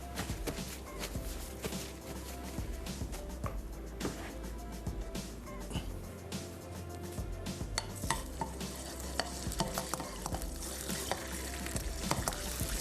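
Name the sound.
garlic paste frying in a pan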